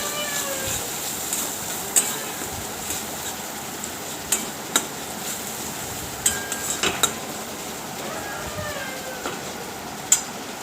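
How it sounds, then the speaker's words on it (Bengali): Spices stirred in a cooking pan while a Bengali sattu dish is prepared, with scattered scraping and clinking spoon strokes against the pan over a steady low background, the occasional sharper knock standing out. "একটার পর একটা সব দিয়ে সুন্দরভাবে নাড়তে হবে।"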